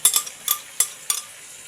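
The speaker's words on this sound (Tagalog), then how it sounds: "atin pong lulutuin ang ating chili paste para hindi po madaling masira, mapanis" Chili paste cooking in oil with a utensil stirring, giving a few sharp clinks and scrapes against the pan at an uneven pace, close and fairly loud, with no talking.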